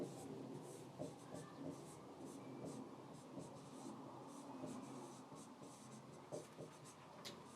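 A pen scratches steadily across paper during a chemistry class, with continuous close strokes and small taps and no speech.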